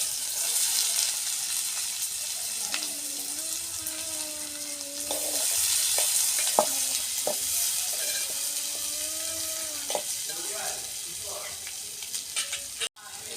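Sliced onion hitting hot oil in a home kitchen sends up a constant bright sizzle, with occasional clinks and a faint tonal whine running underneath and no voices.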